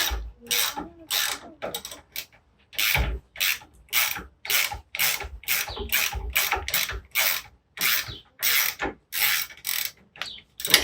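A wrench works a nut loose on a stud of a Jeep Gladiator during a lift install, producing a long series of rhythmic ratcheting and scraping strokes, close and distinct, separated by short pauses.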